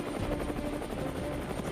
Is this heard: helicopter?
yes